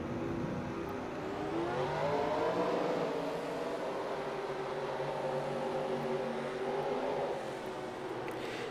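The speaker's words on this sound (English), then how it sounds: "Drivers, start your engines!" Race car engines in a Pokémon Cup racing video game hum as a steady, loud drone with shifting, rising engine tones across the whole stretch, with no voices over them.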